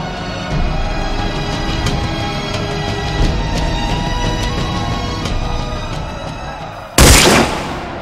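Gunshot sound effects in a Bengali poem recitation about a poet's death by firing squad, a loud sharp blast near the end following a dense, continuous backdrop of crackling, booming noise.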